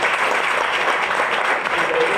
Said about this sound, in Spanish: Por favor, un aplauso para darles ánimo.